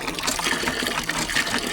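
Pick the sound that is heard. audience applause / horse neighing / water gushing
water gushing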